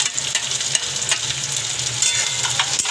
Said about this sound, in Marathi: कांदाही छान असा परतून घ्यायचा आहे। त्यानंतर इथे आपण मिरची टाकून घेणार आहे।